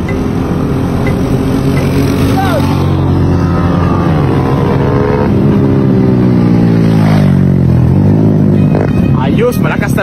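A Dash 110 superstock RC car with stock components revs its small engine in a loud, close flyby, the whining pitch rising and falling in sweeps, with people talking over it throughout.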